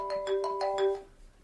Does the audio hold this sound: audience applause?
no